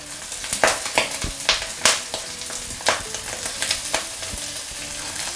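Starch-coated shrimp pan-frying in oil over low heat in a wok, a continuous sizzle punctuated by irregular sharp scrapes and clicks of a spatula turning the pieces, close and fairly loud, no voices.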